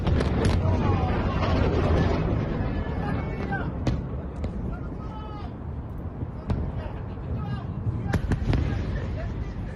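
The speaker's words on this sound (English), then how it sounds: "Closer footage of the impact of Iranian ballistic missiles in Tel Aviv." Iranian ballistic missiles striking Tel Aviv, heard as a dense, continuous roar of distant explosions with sharp cracks and booms breaking through, while people cry out and talk throughout.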